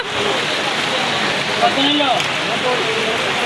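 Rain falls steadily at a crowded outdoor cattle market during the Eid sale, a dense, even hiss on the surroundings. Voices murmur faintly underneath.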